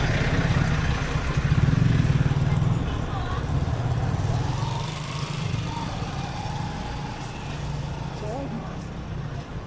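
Idling motorcycle at a bus terminal in Manaoag, Pangasinan, a steady low engine rumble continuing under outdoor crowd noise and background talk throughout.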